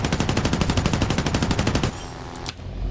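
Rapid machine-gun bursts from the PBY-5A's defensive gunner in War Thunder, a loud continuous rattle for about two seconds that cuts off, followed by a brief mechanical clatter and game ambience.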